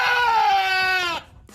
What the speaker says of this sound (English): When a goat lets out a yell that sounds like a human screaming